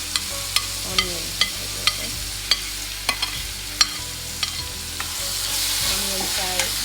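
Onions fry in a pan for pasta upma to a constant sizzle, while a utensil scrapes and taps the pan in regular strokes about twice a second over a low steady hum, and no one speaks.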